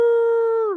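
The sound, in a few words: people imitating a wolf howl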